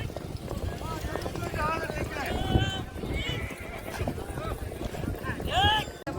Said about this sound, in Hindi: देख सकते हो दोस्तों सामने से घोड़े आ रहे।